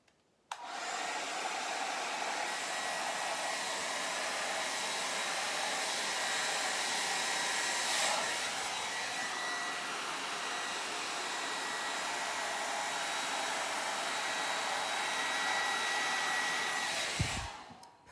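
A hair dryer blows white acrylic paint across a horizontal diptych Dutch pour fluid painting, a steady, loud, close whoosh that runs unbroken for about seventeen seconds before cutting off with a soft thump.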